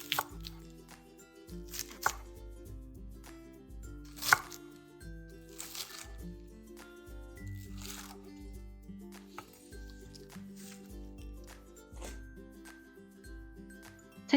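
A knife chops scallions on a cutting board for kimchi, a series of separate, crisp thuds spaced unevenly, each one distinct and close in a quiet kitchen.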